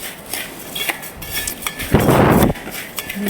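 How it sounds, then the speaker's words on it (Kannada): Puffed rice being mixed with salt, chilli powder and oil in a vessel, heard as light scraping and clinking with one louder rustling stir in the middle, close. "ಅದಕ್ಕೆ ಉಪ್ಪು ಮೆಣಸಿನ ಹುಡಿ ಮತ್ತು ಆಯಿಲ್ ಹಾಕಿ ಮಿಕ್ಸ್ ಮಾಡಬೇಕು"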